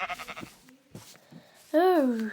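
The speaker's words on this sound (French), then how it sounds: "Oh, les moutons, les moutons!" A single sheep bleats from inside the Minecraft video game. It is a loud, wavering bleat that comes right after someone speaks excitedly in French.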